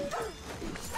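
A dog in the video game Dragon's Dogma 2 lets out a short, yelping bark, close and fairly quiet, heard alone for about a second.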